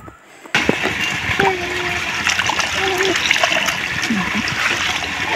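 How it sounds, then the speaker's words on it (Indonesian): Water splashes and trickles as boiled cassava leaves are squeezed by hand, a steady wet spatter running close by with a few louder splats, while faint voices sound in the background. "Lalu daun singkongnya ini kita udah rebus ya, dan kita peras-peras biar airnya ini"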